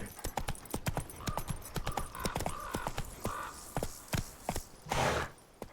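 Roach, a horse in The Witcher 3 video game, trots with a rapid, even clip-clop of hooves, loud and close, before a brief breathy snort or whoosh near the end.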